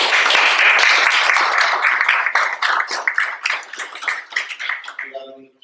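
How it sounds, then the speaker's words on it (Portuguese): An audience at a Coimbra Java user group meetup applauds a presenter, dense close clapping that thins out into scattered claps before a voice begins at the end. "Um salve de palmas para o Nuno."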